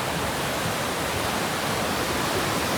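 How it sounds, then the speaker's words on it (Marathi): Dense, unbroken rush of water surrounding a spot in the middle of the Bhima river, loud and even throughout. "मला पाण्याचा आवाज भरपूर येत असेल कारण मी आता उभा आहे भीमा नदीच्या एकदम मध्यभागी"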